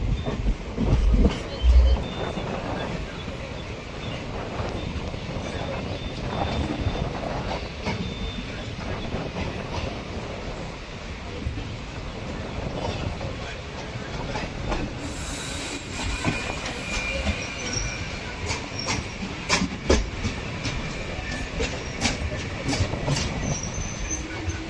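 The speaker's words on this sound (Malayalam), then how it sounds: "ട്രെയിൻ ഇപ്പോൾ ബൈന്ദൂർ റോഡ് മൂകാംബിക റെയിൽവേ സ്റ്റേഷനിലേക്ക് എത്തി" A MEMU train running on the Konkan Railway toward Byndoor Road Mookambika station during the monsoon, heard from inside as a continuous rumble with rhythmic wheel clatter and scattered metallic squeals, and brief faint voices.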